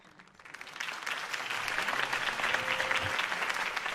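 Applause from a crowd at a campaign rally in Batman: The Telltale Series. It builds from a faint start into steady, dense clapping that holds loud and full to the end, with a brief tone and thump partway through.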